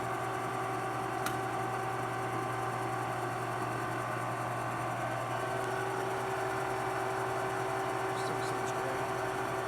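A Naridini Mascote MS1640 lathe running steadily, a constant mechanical hum with sustained tonal whine and faint ticks, close and unbroken over about ten seconds.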